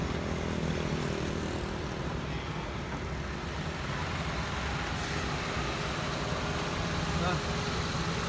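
A 2009 Kia Cerato engine idles steadily with a smooth, even rumble throughout, and a voice is heard talking over it.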